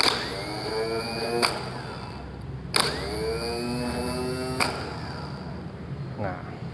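A car starter motor on a test bench whines up with a rising, gear-like tone and spins with its pinion engaged, in three or four separate bursts, each starting with a sharp click. It is loud and close.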